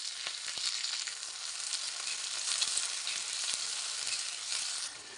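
Shallots, slit green chilies and curry leaves fry in hot oil for chundakka upperi, making a constant, moderately loud sizzle with light stirring clicks throughout.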